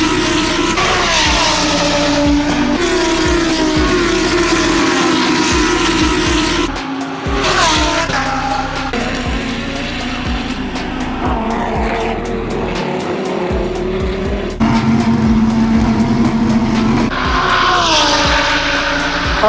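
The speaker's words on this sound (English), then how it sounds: "all going full throttle at the first corner. That's a sight to see." Lamborghini Super Trofeo race cars at Sebring roar at full throttle into the first corner, a loud, continuous pack of engines with shifting pitch and occasional tire squeal, no talking.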